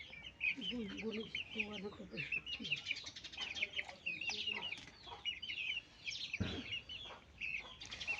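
Chickens cluck and murmur close by in a steady stream, with occasional bird chirps and faint background voices.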